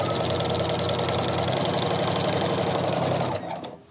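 A sewing machine fitted with a walking foot quilts straight lines along block seams, a loud, steady mechanical chatter running alone before it slows and stops.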